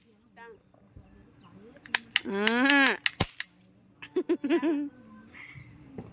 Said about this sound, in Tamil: எங்களுக்கு தோதுவான வெடி துப்பாக்கி வெடி தான்